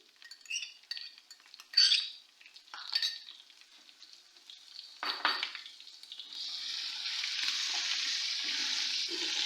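Five or six dried red chilies and ginger hit hot oil in a pan for a moong and masoor daal tempering, with scattered stirring clinks and scrapes giving way to a steady, close, hissing sizzle.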